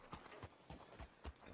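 Horse hooves clip-clop in the Red Dead Redemption 2 video game, a quiet, steady walking rhythm of about six distinct hoof strikes in under two seconds, with no talk.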